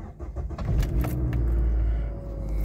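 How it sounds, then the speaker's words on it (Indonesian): A car engine cranks and catches, then settles into a steady low idle, with a faint jingle of keys as it starts. "setelah itu kita start engine"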